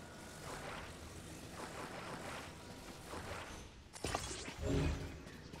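A propeller aircraft built by the player in Zelda: Tears of the Kingdom drones with a steady buzzing engine, swelling louder near the end as it lifts off.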